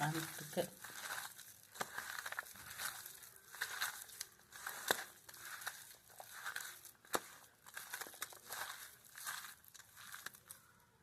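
Minced meat vada mixture squished and kneaded by hand, a steady run of soft, wet squelching and crinkly crushing strokes repeating every second or so, close and moderately quiet.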